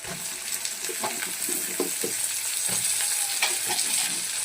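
Potatoes and onion frying in oil in a wok, a continuous close sizzle with soft stirring knocks and light clatter throughout.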